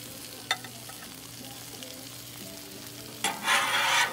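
Smash burgers with cheese sizzle steadily on an outdoor griddle, with a sharp scrape near the start and a louder burst of hissing and scraping toward the end as the patties are pushed across the hot surface.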